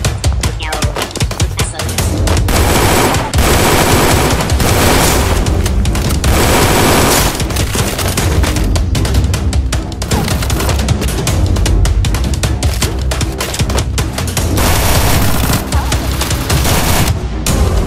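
An M249 machine gun fires in a video game, with long loud bursts of rapid gunfire and booms running almost without pause in a dense, close battle mix.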